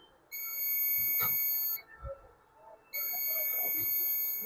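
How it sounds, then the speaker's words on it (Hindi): Multimeter continuity tester beeping while resistors on an e-rickshaw controller are checked, two sustained high-pitched electronic tones separated by a short gap with faint handling noise, close and clear. "ये बीप कर रही है।"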